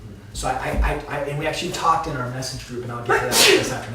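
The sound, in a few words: sneeze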